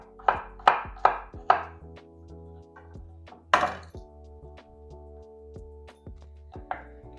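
A knife chops red onion on a cutting board: four quick, evenly spaced thunks, a pause, then one heavier cut and a softer final chop over quiet kitchen hum.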